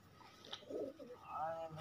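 Pet pigeons kept by kabaddi players coo softly a few times, low throaty warbling calls fairly close but quiet, with no talk over them.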